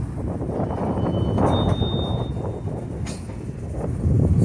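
Low rumble of a CSX freight train starting out and stalling before the engineer moves to notch 2, with steady broadband rail and wind noise and a brief thin squeal partway through.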